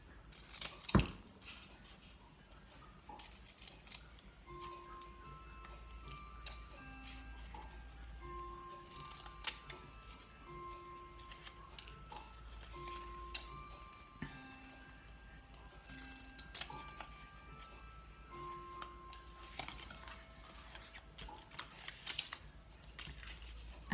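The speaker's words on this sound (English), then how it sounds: "And then I'm going to notch this and this." Paper gift box flaps being notched with scissors, a run of small crisp snips and clicks spread irregularly over a quiet stretch, close and faint with no talk.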